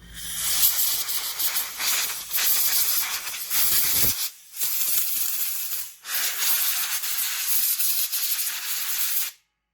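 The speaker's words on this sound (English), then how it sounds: "And then blow it out with the air again." Compressed air blasts out a freshly threaded hole in a car subframe seat mount, a loud, steady hiss in several close bursts with two brief pauses, then stopping abruptly.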